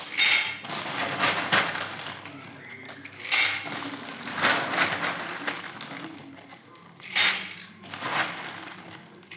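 In-shell peanuts tipped into a pan with salt for roasting give close, repeated bursts of dry rattling and scraping that swell and fade in uneven waves.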